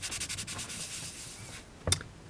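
A 3D print being polished by hand with 600 grit gray polishing paper, giving a quick series of soft, close rubbing strokes that fade out, then a single sharp tap near the end.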